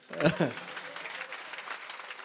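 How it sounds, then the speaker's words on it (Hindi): A crowd claps at a Hindi kavi sammelan poetry event in Bheemgarh. A brief voice opens, then steady, moderately loud clapping continues to the end. "एक बार ताली बजा दीजिए, मैं फिर"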